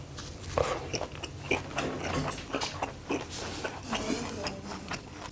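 Someone eats salted red snow crab meat close to the microphone, with wet, crunchy bites and chewing in an uneven rhythm of repeated soft clicks and smacks.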